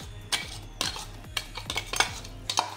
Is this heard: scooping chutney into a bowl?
yes